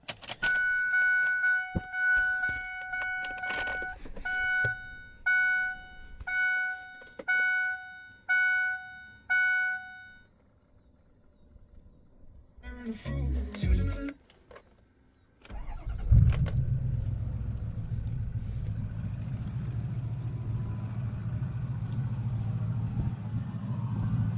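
Keys jangle close by, then a series of warning chimes sounds, before a Ford 6.0 Powerstroke diesel engine cranks and fires up. It settles into a loud, steady, rumbling idle that continues to the end, with no talking.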